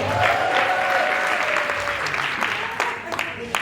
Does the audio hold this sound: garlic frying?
no